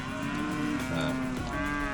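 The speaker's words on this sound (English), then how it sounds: "there's a mob of black cows being herded towards us at the moment" A mob of black cows being herded along a rural road, lowing in long drawn-out moos that overlap one another, fairly close and steady, with no talking.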